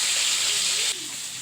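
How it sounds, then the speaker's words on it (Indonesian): Fish dropped into hot cooking oil, giving a loud, dense frying hiss that runs steadily, then drops to a quieter sizzle partway through. "kita cemplungkan dulu ini ikannya ke dalam minyak yang sudah panas."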